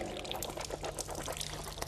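Water poured and splashing for rinsing the mouth during ablution, close and uneven with small gushes and drips.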